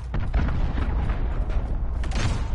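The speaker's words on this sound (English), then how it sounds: "Enemy precision airstrike, get down." Precision airstrike exploding in the video game Modern Warfare, a loud, rumbling blast with crackling bursts layered over a sustained roar that stays heavy throughout.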